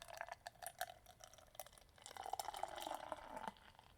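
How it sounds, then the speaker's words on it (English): Great Divide pumpkin ale is poured into a glass, starting as close trickling drips and splashes before settling into a steadier fizzing pour toward the end. "we're just going to go ahead and pour it into our glass"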